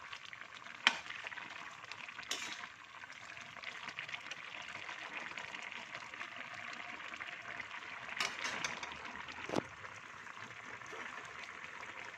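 Homemade fish curry is stirred in a pan as water is added, giving a faint, steady sizzle and wet scraping with a few sharper clinks of the utensil against the pan.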